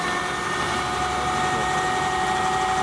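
An electric drive motor spinning at 750 RPM and drawing 70 amps, giving a loud, constant whirring hum with a steady tonal whine, close and uninterrupted.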